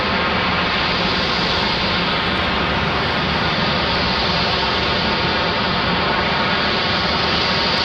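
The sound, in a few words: Spirit Airlines jet airplane departing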